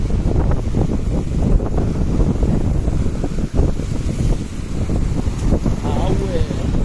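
Sea waves at a beach in the Philippines, a continuous rough wash of surf under heavy wind buffeting on the microphone, loud and close, with a voice briefly speaking.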